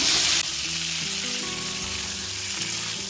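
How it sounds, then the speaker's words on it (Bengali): Pieces of pointed gourd with salt and turmeric fry in hot mustard oil, starting with a loud, bright hiss that settles into a steady, continuous sizzle. "পটলগুলো এবার ভালোভাবে ভেজে নেব।"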